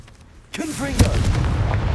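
An explosive Confringo spell in Hogwarts Legacy bursts after a short quiet moment, a sharp close blast followed by rumbling debris, with a voice speaking over it.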